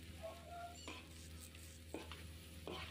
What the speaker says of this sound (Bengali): তো এখন আমি দিয়ে দিচ্ছি ঢেঁড়স, ভালোভাবে মিলিয়ে নিচ্ছি।